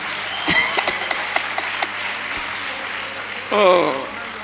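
A crowd bursts into applause and cheering near the end, following scattered claps and a voice speaking over a busy room at a church gathering.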